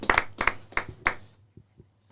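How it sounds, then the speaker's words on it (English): A handful of slow, sparse claps ring out at a podcast taping, about four distinct close hand claps followed by a couple of fainter ones fading out, a weak and thin round of applause. "Round of applause for everybody here, for everybody that came here tonight"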